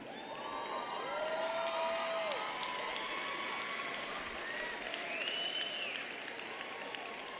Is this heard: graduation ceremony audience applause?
yes